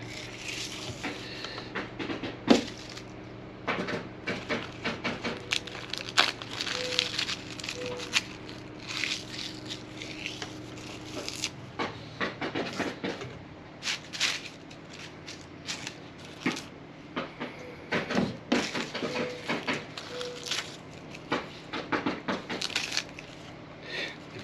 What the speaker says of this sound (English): my neighbor is having new tar paper stapled on his roof, so that's what all that stapling is over there